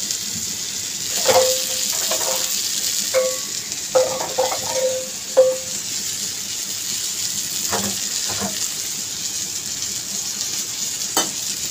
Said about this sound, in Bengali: দেখো সবজিগুলো খুব সুন্দর ভাজা হয়ে গেছে।